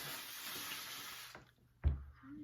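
Water is poured from a container onto seed-starting discs in a cell tray. A soft, steady trickle runs for over a second, then stops, followed by a brief knock and quiet handling sounds.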